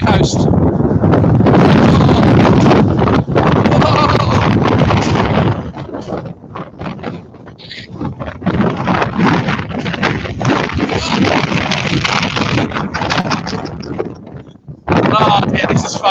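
Strong storm wind on the Eastbourne coast during Storm Eunice roars and buffets the microphone in loud, rough gusts, dropping briefly in places before surging back hard.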